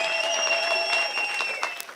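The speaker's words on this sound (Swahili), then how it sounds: "Tupie Yesu makofi." A church congregation claps together during a prayer service, a brief burst of dense clapping with a sustained tone ringing underneath, tapering off over about two seconds.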